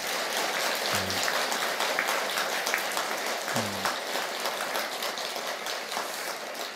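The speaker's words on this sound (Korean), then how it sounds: "세 분 스님들께 감사와 찬탄의 박수 보내주십시오" Audience at a Buddhist temple service claps for three monks who led the prayer, a steady dense wash of applause with a couple of brief low voice murmurs.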